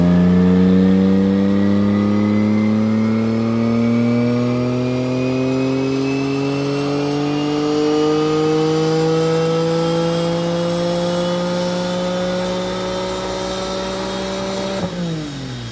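A Porsche Cayman GTS 4.0 engine on a dyno winds up in one long, steady pull, its pitch climbing for about fifteen seconds before dropping off abruptly. The sound is loud and close.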